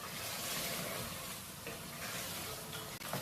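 Meat curry with peas sizzling in a pan while being stirred, a steady close, moderately loud broadband frying hiss throughout with faint scraping from the mixing.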